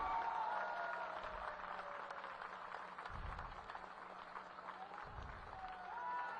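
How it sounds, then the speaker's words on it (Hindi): A large crowd at an outdoor political rally claps steadily, a dense wash of applause that holds throughout, with faint voices and a few low thumps underneath. "सारे के सारे लोग हाथ उठा के खूब जोरों से थोड़ी देर तक ताली बजा देंगे"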